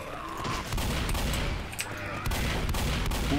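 Rapid, continuous gunfire from a weapon in the zombie shooter game Left 4 Dead, loud and sustained across the whole stretch with dense repeated bursts and a steady roar of shots.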